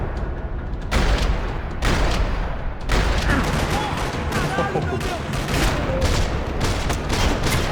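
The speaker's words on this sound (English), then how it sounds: "Another parking lot rattling with gunfire." Heavy gunfire in a parking lot in the video game Max Payne 3, with dense rattling bursts and booming shots packed closely together, loud and continuous with voices faintly mixed in.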